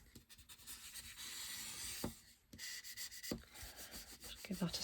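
Paper folded over and pressed flat with glue for a handmade folio, heard as close, dry rubbing and smoothing strokes with a few sharp taps and creases between them.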